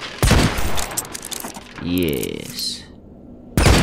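Rapid bursts of gunfire from the video game Hitman Absolution, loud and close, broken by a short gap and a resonant mechanical whir before another shot lands, with a brief voice speaking over it.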